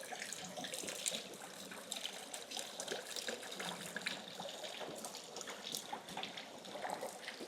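Spring water runs steadily as it is collected for drinking, a continuous splashing trickle and gurgle, close and even, with no voices.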